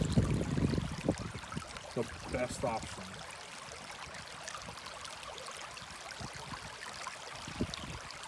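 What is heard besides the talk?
river water splashing during a crossing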